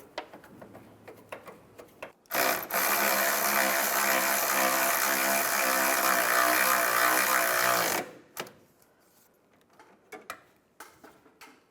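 A power ratchet wrench starts the mounting bolts on a clutch slave cylinder of a 2005-2010 Chevrolet Cobalt. It makes a loud, continuous mechanical whir for about six seconds, with faint ticks and knocks before and after.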